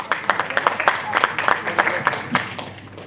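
At a poetry competition award ceremony, a small audience claps in quick, distinct, slightly uneven strokes, close and moderately loud, with individual hand claps standing out rather than blending into a roar.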